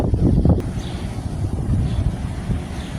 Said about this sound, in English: Yo, this wind feel good.